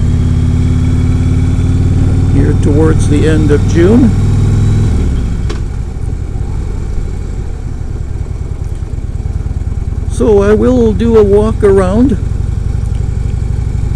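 A motorcycle engine rumbles steadily during a ride in British Columbia, Canada, with two short bursts of rising revs amid the drone, while someone talks over it.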